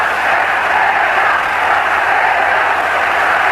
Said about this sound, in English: This crowd, largely natives of the island, chanting for their champion